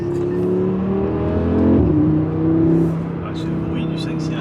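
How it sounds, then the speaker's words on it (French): Audi five-cylinder turbo engine revving as the car is driven, a loud close engine drone that rises and shifts pitch partway through, then settles to a steady cruising hum, with a few faint background sounds near the end. "Ah, ce 5 cylindres turbo"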